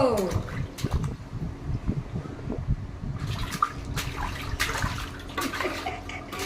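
Baby splashing bath water, with irregular sloshes and slaps close by while an adult talks throughout.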